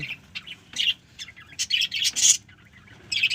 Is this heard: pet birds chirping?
yes